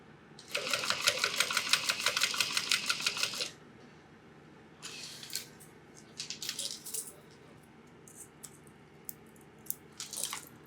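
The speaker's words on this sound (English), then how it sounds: "So now we can just stitch that along the bottom like we did" A sewing machine stitching along the bottom of a fabric crossbody bag, one steady burst of rapid needle clatter lasting about three seconds, then short stop-start runs and scattered clicks, close and clear, with no talk.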